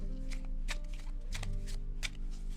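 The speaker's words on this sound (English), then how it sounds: "The magician gives them an extra cut and a few extra shuffles to ensure the cards are thoroughly mixed" A deck of playing cards being shuffled by a magician, several quick riffling bursts with sharp snaps between them, close and crisp, no talking.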